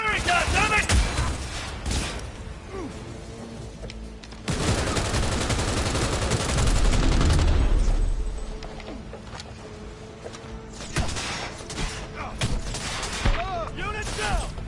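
Dense bursts of automatic gunfire and explosions in the video game Cyberpunk 2077, loud and sustained, with shouted voices over the shooting.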